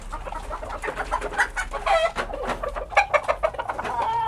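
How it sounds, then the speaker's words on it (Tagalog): Backyard farm chickens clucking and calling in a steady, overlapping chatter, several birds close by with repeated short clucks and trills, no talking. "May mga manok pa kami dito sa likod guys."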